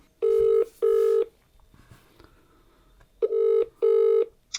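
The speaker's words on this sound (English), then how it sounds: "So I'm going to take you through what it's like to phone someone up live." An outgoing telephone call rings out with repeated paired ringback tones, two loud bursts, a quiet gap with faint line noise, then two more bursts, heard clearly on the line.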